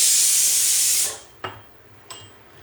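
A pressure cooker releases steam in a loud, close hiss that holds for about a second, then fades. Two short, softer puffs of venting follow after it.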